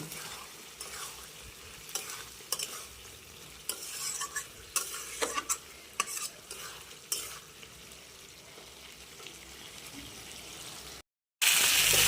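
Spice masala for a hilsa fish dish fries over a wood fire, a continuous sizzle with irregular scraping strokes of a spoon in the pan, then a brief cut to silence and a louder burst near the end; no speech.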